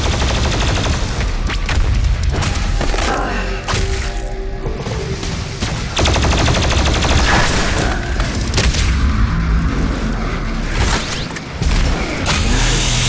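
The BFG 10,000 firing in DOOM Eternal, a loud, sustained rumbling roar with booming surges and mechanical noise, dense and continuous throughout.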